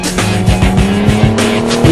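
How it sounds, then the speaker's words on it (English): An eight-wheeled radio control stunt car runs with a loud buzzing motor whine and repeated sharp scuffs from its tires as it spins and turns nearby, with no voices. "This is a brand new thrilling, crazy, incredible speed and exciting radio control car."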